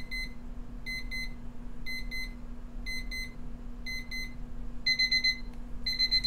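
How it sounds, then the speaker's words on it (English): A Tinload small battery-operated analog alarm clock sounds its ascending alarm: repeated bursts of electronic beeps in short clustered groups, growing faster and denser toward the end over a steady low hum. "There's the alarm."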